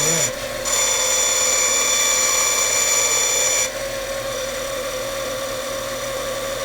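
A band saw running steadily as it trims a thin sliver off the edge of a wooden circle held in a circle-cutting jig, a loud continuous machine whine with the blade load dropping slightly partway through.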